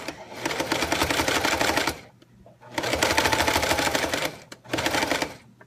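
Sewing machine stitching a zipper without a zipper foot, running in three fast, even bursts of rapid mechanical chattering separated by short pauses, close and alone.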